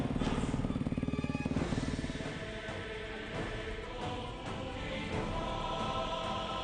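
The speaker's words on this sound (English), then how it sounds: "all the motorcycles getting ready for day one of this Desafío Inca." Rally motorcycles at a Dakar Series stage start in Peru rev and idle together, a dense rough engine rumble, louder at first and then settling into a steady mid-level drone with no talk.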